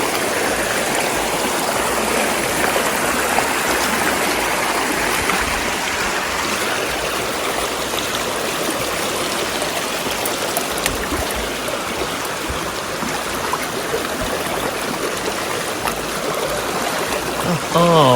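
Water rushes steadily through a shallow stream at night during crab catching, a constant close babbling flow that fills the whole stretch, with occasional faint voices beneath it.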